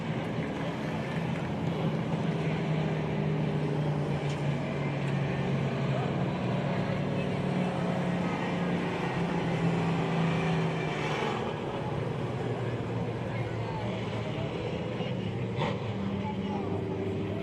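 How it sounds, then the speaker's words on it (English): Pure stock race cars roll out onto a speedway for qualifying, a steady broad engine drone with a low rumble holding throughout, moderately loud and continuous under an announcer's voice. "Qualifying rounds rolling out on the speedway now."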